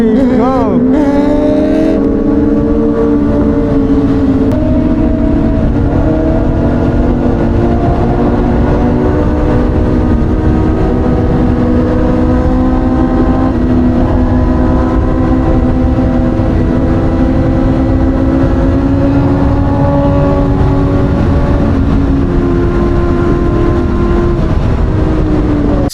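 A Kawasaki Ninja 1000 superbike riding at speed on an expressway, its loud, steady engine drone holding a sustained tone with slowly shifting pitch and heavy wind rush the whole time.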